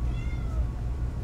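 A house cat meows softly a few times in a quiet room during a children's drawing session, faint against a low background hum.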